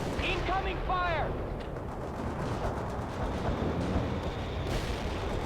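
Gunfire and artillery from the World in Conflict battlefield, a steady dense rumble of distant shots and shelling, with brief radio-style chirps early on, continuous and moderately loud throughout.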